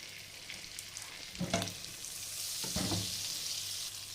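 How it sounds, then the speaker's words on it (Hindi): Eggs frying with spinach in a pan over a medium-low flame make a continuous gentle sizzle, with a few soft knocks and stirring scrapes, close by and quiet. "और ये तड़का भी बन जाएगा, ये भी काम आएगा और अंडे भी फ्राई हो जाएंगे"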